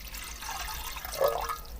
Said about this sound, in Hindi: ये मैंने इसके अंदर पानी डाल दिया देगची में